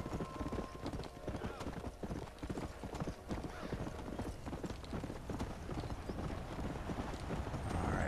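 Steady rhythmic clip-clop of horse hooves at a trotting pace in the video game Red Dead Redemption, with a voice talking over the top.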